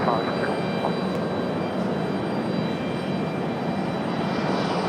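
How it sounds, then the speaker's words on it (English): Air France airliner departing Raleigh Durham International Airport: a loud, continuous broad jet-engine roar close by, steady throughout, with faint voices in the background. "there's Air France off to Charles de Gaulle, back to Paris"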